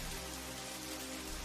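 Cartoon rain sound effect for a Hindi moral story about a paper house, a steady, dense hiss of falling rain that holds at an even level throughout with no voices.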